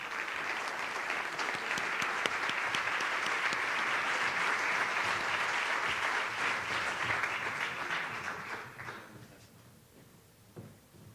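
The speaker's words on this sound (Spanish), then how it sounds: "Un fuerte aplauso para Gerardo." Sustained audience clapping fills a charity awards gala, loud and even for several seconds before fading away, leaving a quieter room with a few stray sounds.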